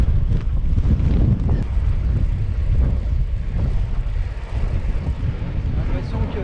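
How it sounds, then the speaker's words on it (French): Strong headwind buffets a cyclist's microphone in a steady, loud low rumble, gusting unevenly throughout. "J'ai l'impression que le vent s'est encore levé. Oui, il augmente."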